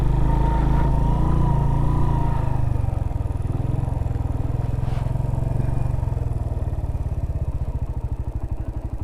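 A motorcycle ridden slowly over stones on a rough mountain track in Chunda Valley, Skardu, its engine thudding steadily up close while the wheels clatter and scrape across the rocks.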